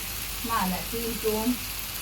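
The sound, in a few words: sautéing in a little oil in a pan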